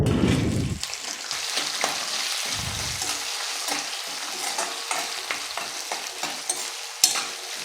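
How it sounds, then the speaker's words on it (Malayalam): Shallots sautéing in oil for sambar, giving a steady close sizzle with frequent scraping and stirring clatter from the spoon against the pan, and a brief clunk near the end. "ഇനി നമ്മുടെ ചെറിയുള്ളി ഒന്ന് വഴച്ചെടുക്കാം"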